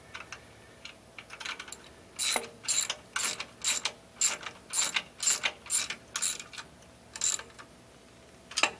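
Fasteners being snugged down on a modified subsoiler cable, wire and pipe burier, giving a series of about a dozen sharp ratchet clicks in quick bursts, close and fairly loud over a quiet background.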